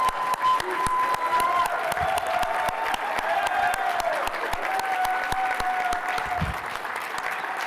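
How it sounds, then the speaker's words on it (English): A large audience at a closing plenary session applauding, a loud sustained wash of many hands clapping with a few distinct nearby claps, plus faint voices and a whistle-like tone in the crowd. "So please join me in one big round of applause again for my team."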